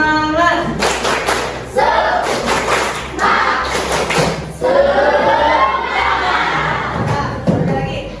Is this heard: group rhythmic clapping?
yes